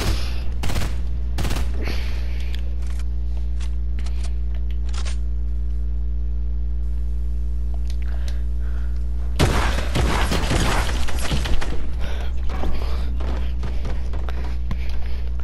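Shotgun blasts in a creative-mode video game battle: a rapid string of sharp, loud cracks, sparse at first and then a dense volley in the second half, with little talk.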